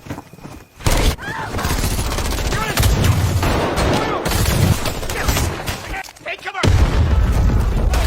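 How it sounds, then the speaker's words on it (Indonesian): Dense gunfire erupts in an action film's battle, bursts of rapid shots and booming blasts layered loudly and almost continuously, with a brief lull before more firing resumes. "terus menggempur mereka dengan tembakan"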